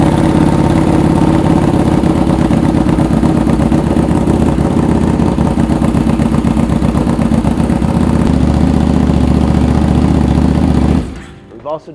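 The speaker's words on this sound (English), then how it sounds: "you can't be at a motorcycle without hearing the roar." A Buell motorcycle engine roars loudly and steadily at close range with a throbbing low rumble for about eleven seconds, then cuts off abruptly into near silence.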